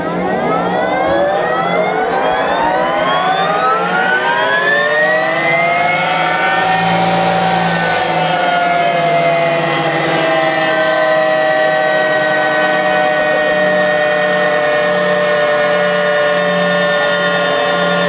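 A Harley-Davidson LiveWire electric motorcycle accelerates toward about 60, its motor whine climbing steadily in pitch over several seconds, then holding a steady high electric hum with a faint low drone underneath, continuous and close throughout.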